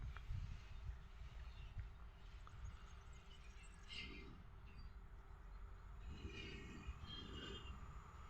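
Dolina Popradu passenger train arriving at Tarnów station, a distant low rumble of rolling cars with faint wheel squeals and clunks, steady and fairly quiet throughout without speech.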